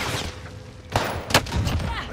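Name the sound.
gunfire from the video game Call of Duty Rebirth Island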